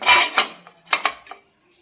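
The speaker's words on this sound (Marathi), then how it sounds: "तर हे इडलीचं भांडं यामध्ये ठेवूया." A metal idli steamer stand is set down into a steaming pot holding a little water, giving a few close clanks and clatters of metal on metal, then a brief quieter knock.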